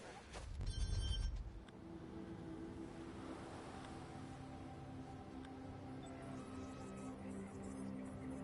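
A phone rings in the video game Watch Dogs 2 as a steady electronic ringing tone over a low ambient game background, with a louder thump near the start.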